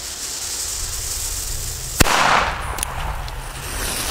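A DumBum Black Edition PB120D firecracker, a 120 dB German banger, goes off in one loud, sharp bang after a quiet stretch, followed by a brief fading rumble and crackle outdoors.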